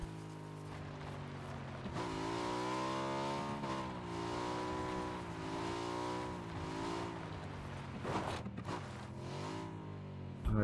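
A car engine in PUBG drones and shifts pitch as it drives, revving up and easing off with a smooth, synthetic game-like tone, a few clicks near the end.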